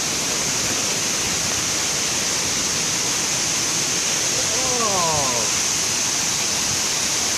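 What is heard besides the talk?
Munduk waterfall in Bali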